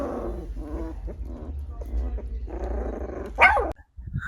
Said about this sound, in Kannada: ನಾನು ನಮ್ಮ ಸ್ವೀಟಿ ನಾಯಿಮರಿಗಳ ಜೊತೆ ಆಟ ಆಡ್ತಾ ಇರ್ತೀನಿ.